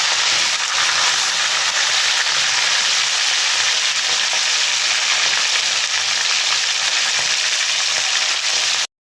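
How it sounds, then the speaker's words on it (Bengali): Fish pieces frying in hot oil for a Bengali fish dish with mango and pumpkin, giving a loud, close, continuous sizzle and crackle that holds steady throughout before cutting off. "তেলটা গরম হয়ে গেছে মাছ ভাজার জন্য তেল দিয়েছি আর মাছগুলো এখন ভেজে নেব"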